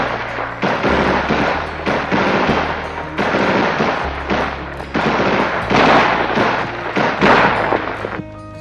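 Sustained automatic bursts from an M16A1 rifle in US Army field training, rapid loud cracks repeating in several long strings with brief pauses between, no voices.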